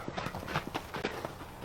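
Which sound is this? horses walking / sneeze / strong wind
horses walking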